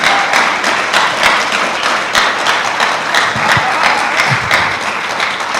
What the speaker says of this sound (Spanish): Hermano, den un aplauso al Señor.